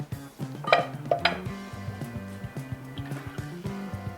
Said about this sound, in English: we have 1 cup of heavy cream we're gonna pour into a pot